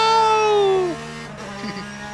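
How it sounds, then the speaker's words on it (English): A Porsche race car engine in the Le Mans Ultimate racing sim gives a bright, buzzy note that falls steadily in pitch as it slows, then settles into a lower, steady drone. "Oh, listen to the engine"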